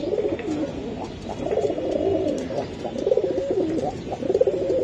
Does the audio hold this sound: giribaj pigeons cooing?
yes